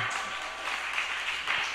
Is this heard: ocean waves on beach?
no